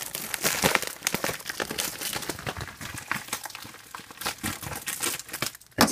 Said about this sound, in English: let's just rip it off